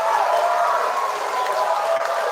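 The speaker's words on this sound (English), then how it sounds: "Give these two boys a giant round of applause" A school audience at a spelling bee applauds and cheers two boys, a dense, steady wash of clapping and crowd noise that holds at an even level throughout.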